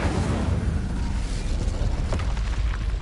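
Confringo and Incendio fire spells cast in Hogwarts Legacy, a loud continuous rumbling burst of fiery explosions with crackling pops and booms throughout.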